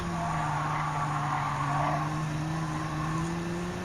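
Tires squeal steadily in Gran Turismo 7 as a car drives hard around a track, a continuous screech over a droning engine note for several seconds with no talking.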